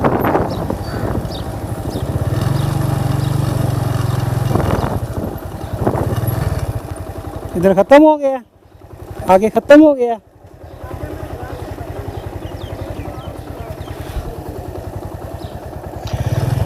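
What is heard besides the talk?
motorcycle riding inside Rohtas Fort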